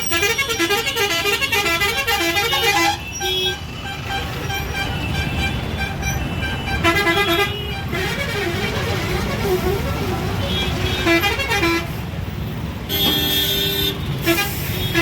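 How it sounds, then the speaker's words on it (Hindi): Busy bus stand in Patna, India, with buses idling and moving and repeated loud melodic horn toots layered over engine rumble and street bustle. "देख रहे बस स्टैंड है ना, इतना बस आता है यहाँ पर"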